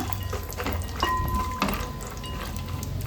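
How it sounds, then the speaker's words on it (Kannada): Cashews and raisins fry in hot ghee for rava laddu, a soft close sizzle with light stirring and a faint clink against the pan, short and steady. "ಹಾಗೆ 1 ಚಮಚದಷ್ಟು ಒಣ ದ್ರಾಕ್ಷಿಯನ್ನು ಸೇರಿಸ್ಕೊಂಡು ಚೆನ್ನಾಗಿ ಫ್ರೈ ಮಾಡ್ಕೊಳ್ಳೋಣ."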